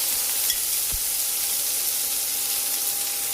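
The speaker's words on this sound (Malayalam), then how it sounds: "അതിലേക്ക് ചതച്ച് വെച്ചിരിക്കുന്ന ചുവന്നുള്ളി, വെളുത്തുള്ളി, വറ്റൽമുളക്, പച്ചമുളക്, ഇഞ്ചി, വെളുത്തുള്ളി എല്ലാം ചേർക്കാം." Continuous bright sizzling of crushed shallots, garlic, dried and green chillies and ginger in hot oil, close and steady, with a soft thump early on and no talking.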